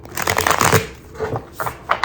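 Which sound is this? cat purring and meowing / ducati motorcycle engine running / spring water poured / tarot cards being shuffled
tarot cards being shuffled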